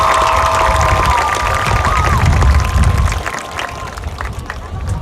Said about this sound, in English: Can we all give a round of applause for Jake and Landon?